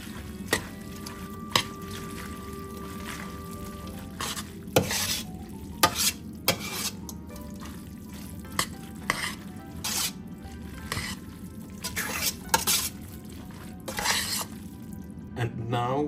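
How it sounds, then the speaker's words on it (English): Pasta tossed with pesto and pasta water in a pan, stirred thoroughly with a soft steady sizzle and intermittent scraping clicks of the utensil, close and fairly quiet throughout. "make sure to mix it thoroughly, because the pesto doesn't distribute good enough otherwise."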